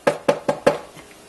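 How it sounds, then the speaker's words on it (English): Push button switches on an older NuTone IMA406 music intercom master station give four sharp, evenly spaced clicks up close, with no voices over them. "The switches, the push button switches, which are typically very noisy on older systems, have been cleaned and lubricated."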